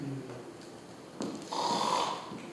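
A stage actor in a high school theatre production imitates snoring with a couple of rough, snorting breaths in a room with some background noise.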